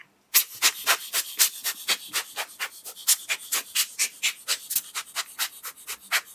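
A hand air blower puffs dust off a camera body with the lens cap on, a steady series of about two dozen sharp, breathy puffs in quick even rhythm, close and alone.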